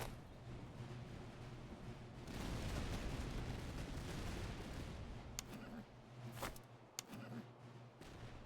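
Cannon fire in the battle game Master of Command: a dense roar of distant artillery and musketry, then a few sharp, separate blasts near the end.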